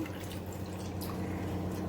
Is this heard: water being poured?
yes